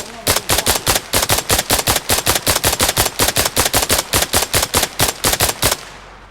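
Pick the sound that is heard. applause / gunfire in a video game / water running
gunfire in a video game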